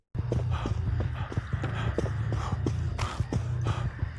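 Steady, evenly paced footsteps in a video game map, crossing dirt and the floors of a two-story house, a repeating thudding crunch close and clear with no talking.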